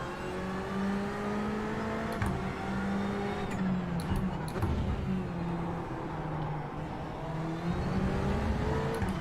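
A race car in the sim racing game iRacing accelerates at Indianapolis with damage, its engine note climbing and falling through gear changes in a continuous close drone, with a few clicks and thumps.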